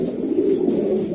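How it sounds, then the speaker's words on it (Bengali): A young racing pigeon coos close by, a low, continuous throaty purring call that carries through the moment alone. "এই কবুতরটা এত ডাকে খা ভাই, আমি ভিডিও আইসি ধরে হালা ডাক করতেছে, এখনো ডাকতেছে"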